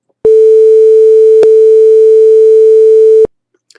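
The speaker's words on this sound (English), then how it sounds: "this is what the quantized signal sounds like" A steady electronic test tone quantized to 64 levels, a single loud, flat, buzzy pitch with quantization noise that holds for about three seconds with clicks at its start and end.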